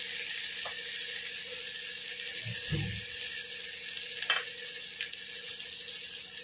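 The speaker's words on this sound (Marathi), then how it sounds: "थोडंसं हिंग टाकत आहे." Pinch of asafoetida dropped into a pan of roasting coconut, ginger, garlic and coriander masala, giving a steady low sizzle throughout with a short burst of stirring or frying noise partway through, close and moderately loud.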